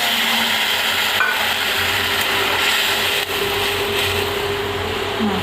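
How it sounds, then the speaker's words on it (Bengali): Steady loud hissing sizzle from a pan of Bengali fish curry (macher jhal) as water is added, a continuous dense roar that holds evenly throughout with no talking. "মাছের ঝালে জল দিয়ে দিলাম"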